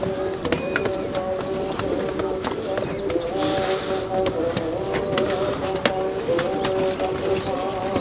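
Desi pigeons kept on a rooftop coo in overlapping throaty rolls amid sharp clicks and scuffs, fairly close and steady throughout, with no one talking.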